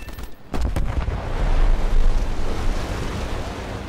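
A shot-down plane exploding in the War Thunder combat game, a sharp burst of blasts followed by a long, loud rumbling roar that swells and slowly trails off.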